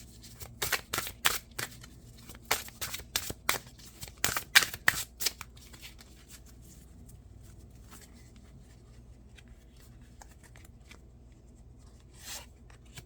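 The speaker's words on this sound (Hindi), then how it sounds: "एक कार्ड हम और निकालेंगे।" Tarot cards are shuffled by hand in a rapid run of crisp riffling snaps and clicks, close and clear, before the handling stops and the room goes nearly quiet.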